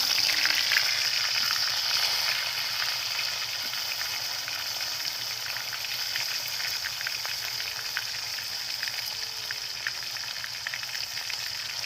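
Tomatoes fry in hot oil with cumin for a Bengali village-style soybean curry, a loud, dense, continuous crackling sizzle close up that holds steady the whole time with no talking.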